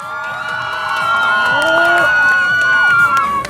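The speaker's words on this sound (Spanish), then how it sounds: "Aplausos para María Teresa" A lively crowd at a pageant crowning a festival queen in Peru cheers loudly, with shouts, whoops and high excited voices swelling together into a sustained roar.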